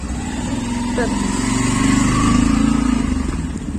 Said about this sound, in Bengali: ববি গ্যারেজ থেকে বাইক নিয়ে আসলো